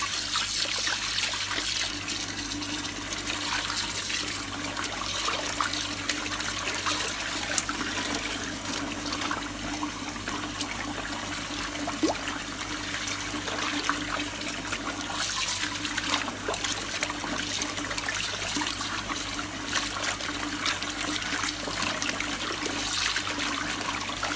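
Lukewarm water with concentrated fabric softener is swished and sloshed around in a container, giving a continuous trickling, gurgling wash with small splashes throughout.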